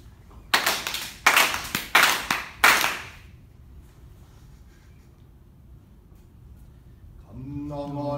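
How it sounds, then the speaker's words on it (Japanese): Four sharp ritual handclaps at Shinto worship, evenly spaced and crisp, followed by a few seconds of quiet before a voice begins chanting. "四拍手。"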